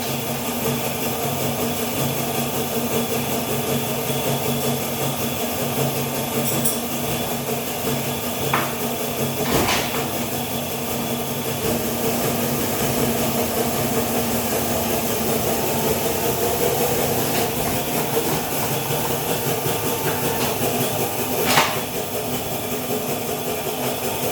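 A pipe bending machine shapes a Triumph Tiger 800 exhaust link pipe, giving a steady mechanical whir throughout with a couple of sharp metallic clanks partway through and near the end.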